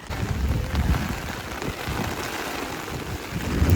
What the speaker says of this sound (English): It is still very much raining.